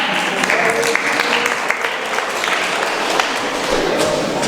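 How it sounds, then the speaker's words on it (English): Audience applause at a women's empowerment summit, loud, close clapping from a crowd that holds steady throughout, with a few brief voices rising over it. "Give Elijah a round of applause."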